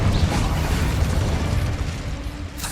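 An Incendio fire spell goes off in Hogwarts Legacy as a loud, sustained fiery whoosh and rumble near the listener, fading slightly toward the end with a brief burst at the close.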